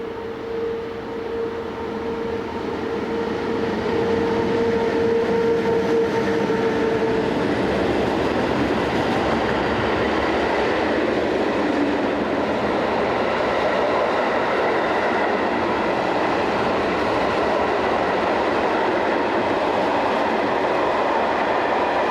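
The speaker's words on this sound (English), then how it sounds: "Today they still operate over this route, usually in tandem with Class 420 and 430 electrics, or Re442 and Re443." Swiss SBB Class 620 Re6/6 electric locomotive hauling a train on the Gotthard route, with a steady, loud rolling rumble and rail noise throughout, and a faint tonal whine fading in the first seconds.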